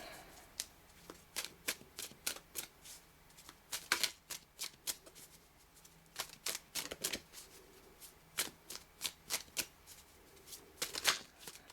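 Tarot cards being shuffled by hand during a weekly tarot reading, a steady run of crisp riffling bursts and soft slaps, close and fairly quiet, with no talk.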